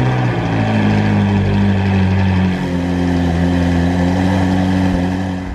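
A Ferrari engine, carbon-pack equipped, revs loudly and steadily up close, its deep harmonic drone rising and settling with no talk over it.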